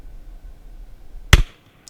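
A single sharp rifle shot rings out during a wild boar hunt, a sudden loud crack fired from a distance with a short decaying tail, standing alone after quiet outdoor background.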